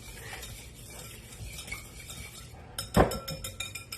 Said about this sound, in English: in the bowl with the wet stuff, just going to give it a little whisk